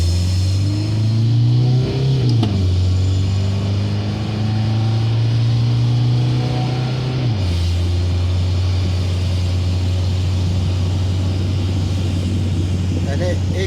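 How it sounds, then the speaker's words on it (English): A TDI diesel-swapped GMC 1500 pickup at full throttle: a loud, close engine drone climbs in pitch, drops at a gear change, pulls again and shifts once more, then settles into a steady, heavy roar. "we'll do like a full throttle pull here."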